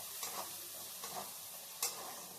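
A coriander vadi spice mix with green chilli-garlic paste, turmeric and red chili powder is sautéed in a pan. It gives a soft, steady sizzle with three distinct scraping stirs.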